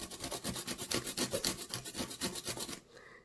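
Material being grated by hand to make flocking powder, a rapid rasping scrape repeated in steady strokes about five per second, close and loud, then stopping.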